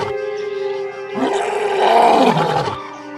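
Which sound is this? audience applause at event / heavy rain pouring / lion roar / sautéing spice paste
lion roar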